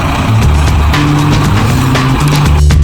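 Volvo V11R bus with a 450-horsepower engine and a Philippine-made Almazora body cruising, a loud steady low engine drone with shifting tonal hum and road rumble throughout, no voices.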